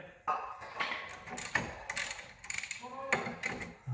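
A ratchet wrench loosens 14 mm bolts during a wheel bearing repair on a 2004 Toyota Prius, its pawl clicking in quick close bursts between metallic clanks and brief pauses.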